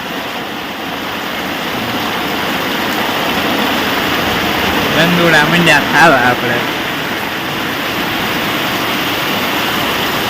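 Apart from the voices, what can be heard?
heavy rain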